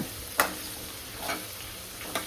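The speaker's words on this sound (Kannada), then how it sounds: "ಆನಿಯನ್ ಹಾಕ್ಕೊಂಡ್ವಿ." Small onions sizzle softly in a pan while a utensil stirs them, with three distinct scraping strokes spaced out over a faint continuous fry.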